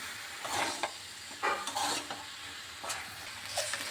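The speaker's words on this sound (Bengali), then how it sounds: "আমি ভালোভাবে চালের গুঁড়োটা দিয়ে মিশিয়ে নিচ্ছি" Rice flour is stirred into cooked raw jackfruit in a pan, a quiet background sizzle with repeated scraping strokes of a spoon against the metal at an uneven, unhurried pace, no speech.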